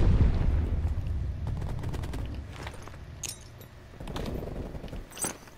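Gunfire in the video game Call of Duty Cold War comes as a dense burst of loud shots that thins into scattered bangs, with a few sharp reports near the end and no speech.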